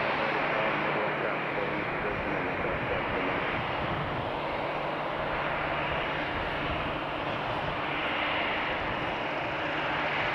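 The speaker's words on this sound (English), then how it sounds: "You get a nice, really nice close-up of everybody turning off the runway here." Airliners taxi off the runway at Raleigh-Durham International Airport, their engines a steady, broad, continuous roar mixed with outdoor wind rumble from start to finish.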